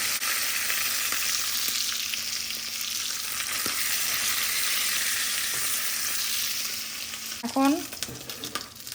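Onions poured into hot oil in a frying pan after frying fish, a steady loud sizzle throughout, with a brief stirring clatter and a short spoken word near the end.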